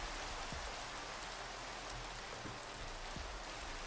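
Steady, soft rain hisses continuously in the GregTech New Horizons Minecraft modpack, an even wash of pattering drops with a few faint ticks and no voices.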